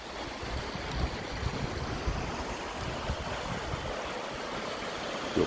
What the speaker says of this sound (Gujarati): જો આ ખાંચો તૂટી ગયો છે, આ પાણી જાય છે.